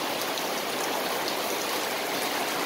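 Typhoon Kristine's heavy rain pours over flooded Mabuhay Golden City, a thick continuous hiss of water falling at even strength from start to finish, no talking.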